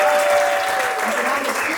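Audience applause for Jake, a volunteer who has just helped with a magic show's coin and card tricks, fills the hall as dense, steady clapping with a faint voice line over it.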